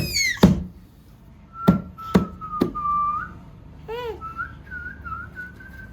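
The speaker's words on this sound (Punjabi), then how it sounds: "ਸੀਟੀ ਐ ਮਾਰਦਾ ਜਿੰਨਾ ਕੁੱਕਰ ਦੀ ਸੀਟੀ ਨਹੀਂ ਵੱਜਦੀ" A man in a clothing shop gives a long, wavering whistle that rises and falls in pitch, close and clear, preceded by a few sharp knocks or thuds.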